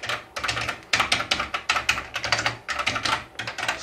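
Fingers type on the keyboard of an old Amstrad CPC 464 computer, producing rapid, close, clacking keystrokes in uneven bursts with short pauses, with no voices.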